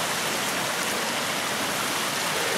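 A small waterfall in a creek gully pours with a steady, dense rushing hiss, constant and fairly close, with no other sounds.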